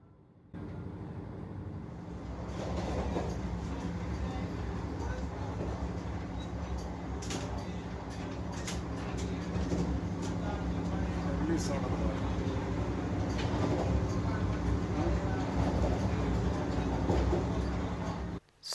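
Inside a fully air-conditioned Vande Bharat express running at about 140 km/h, a steady low rumble of wheels and carriage noise fills the cabin continuously, with quiet passenger chatter in the background.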